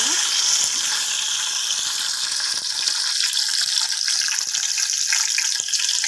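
Drumstick pieces dropped into hot oil in a pan for a fish and drumstick curry, giving a steady, loud, close hiss of frying throughout.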